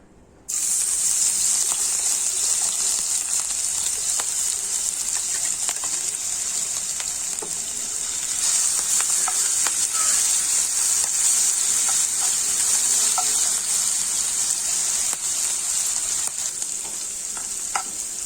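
Crushed ginger, green chili and garlic hit hot coconut oil in a pan and break into a loud, continuous sizzle that holds for the whole stretch, with occasional clicks and scrapes from stirring.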